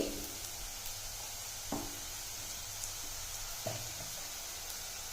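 Chili powder, cumin powder and garam masala fry in hot oil for a chickpea curry, giving a steady close sizzle with a few soft knocks of a spoon against the pan.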